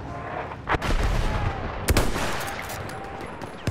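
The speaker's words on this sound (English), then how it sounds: "Enemy machine gun sighted!" Gunfire in the World War I shooter Battlefield 1: a few sharp, loud shots crack out over a continuous rumbling battle din, with no voices.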